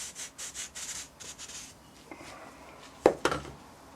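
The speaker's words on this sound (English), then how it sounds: "Take the sprue out first." A sprue is drawn out of rammed casting sand for a metal casting mould, heard as a run of rhythmic scraping and rubbing strokes, then a pause and a couple of sharp knocks close by.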